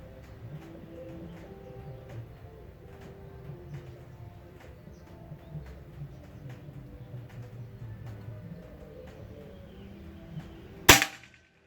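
A Bocap Pajero Gen 5 full-CNC PCP air rifle fires its first test shot with a VS Dome pellet, one sharp loud crack near the end after a stretch of quiet outdoor ambience with faint birds chirping.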